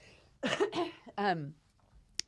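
A few harsh, close coughs in quick succession, a wet throaty hack followed by another rough burst, then a sharp click.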